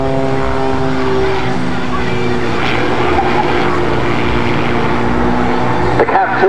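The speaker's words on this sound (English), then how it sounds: "The CAP232 is an amazing machine, rather interestingly, it's a wooden aircraft" A CAP232 wooden aerobatic plane performs a flying display at an air festival, its propeller engine droning loudly and steadily, partly masked by crowd and wind noise and a voice talking over it.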